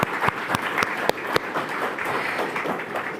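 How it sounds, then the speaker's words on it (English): Steady, dense applause from a conference audience for dance performers at the Prague European Summit, with a few sharp, close claps standing out above the continuous crowd clapping. "I think that we can give another applause to the performers."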